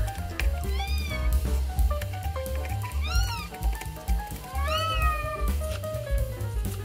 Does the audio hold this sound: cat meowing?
yes